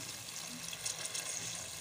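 Water is poured into a pot of pea pulao with peas and spiced stock, giving a soft, continuous splashing hiss that stays faint and steady throughout.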